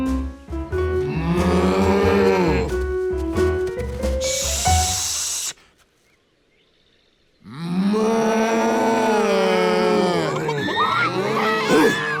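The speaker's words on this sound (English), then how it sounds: "How could he quiet the cows?" Cartoon cows moo loudly in long drawn-out lowing calls, broken by a hissing burst and a short silence before more mooing.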